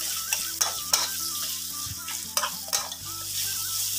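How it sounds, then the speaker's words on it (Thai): Minced pork stir-fried in a hot pan with pounded garlic and salt, a steady sizzle broken by several sharp scraping strokes of a spatula against the metal, close and fairly quiet, no talk. "แล้วเราก็ผัดหมูสับของเราให้สุกเลยนะครับ"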